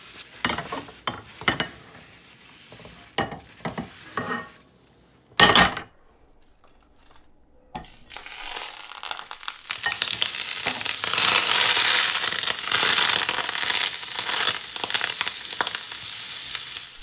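Butter browning in a hot pan while trout meunière is cooked, preceded by scattered clinks and pan knocks, then a loud, steady sizzle that builds and holds for several seconds.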